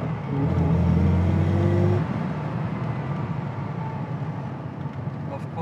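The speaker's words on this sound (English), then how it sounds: "Oh, there's a real gearbox whine." A 1956 Mercedes 300SL Gullwing drives along with a steady engine rumble, a louder surge early on and then an even, continuous road drone, with its gearbox whine beneath.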